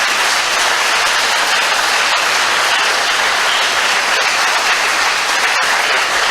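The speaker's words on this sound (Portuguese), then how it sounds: "Se você crê, aplauda o Senhor Jesus." A church congregation claps in praise during a Presbyterian service, a continuous, loud wash of dense hand claps lasting several seconds with a few sharper individual claps standing out.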